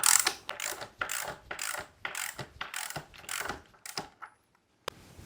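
Ratchet wrench snugging a bolt on a 2025 Surron Ultra Bee electric dirt bike, a run of rapid close clicking bursts in an uneven rhythm, pausing briefly near the end before one last click.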